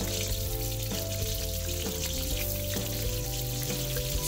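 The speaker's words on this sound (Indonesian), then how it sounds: "Sekarang kita goreng bawang merah" Shallots frying in oil in a wok for a stir-fried squid dish, a steady dense sizzle running the whole time at close range with no talking.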